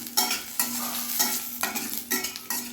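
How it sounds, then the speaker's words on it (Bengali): Cumin seeds and a torn dried red chilli fry in hot oil in a pan for a katla fish curry, with a steady sizzle broken by repeated scraping stirs roughly every half second, close by and with no talking. "এবার ফোড়ন খুব ভালোভাবে আমি ভেজে নিব।"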